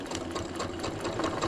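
A sewing machine runs steadily, stitching down the side of a zipper in a boxy fabric piece, a continuous close motor whir with a rapid even needle rhythm and no talking.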